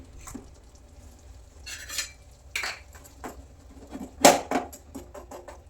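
A spoon scrapes and clinks in a pan while bitter gourd gojju with jaggery is stirred, irregular close knocks and short scrapes over a quiet background.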